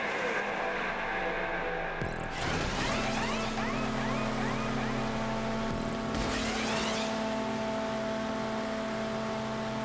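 A stock Elegy Retro Custom car engine in GTA 5 holds a loud, steady droning hum, with rising and falling revs as gears shift during a race, alone and up close.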